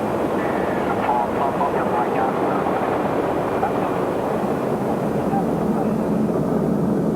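A steady, loud drone fills the cockpit of a presidential aircraft in flight, a continuous broadband engine and airflow rumble with no change in level.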